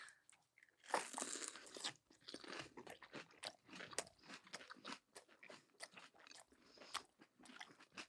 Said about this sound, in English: The crunch, we don't like the chewing, do we?